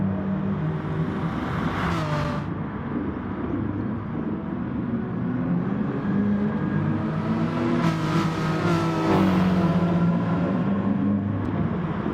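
Race cars on a track during a race, a continuous engine rumble with revving, and two louder passes sweeping by near the start and again later, with no talk.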